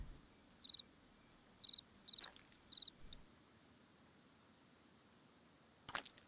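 Short bursts of high, rapid cricket chirping from the video game Nancy Drew: Ghost Dogs of Moon Lake repeat four times in the first half over a faint steady hiss, then fall quiet apart from a brief click.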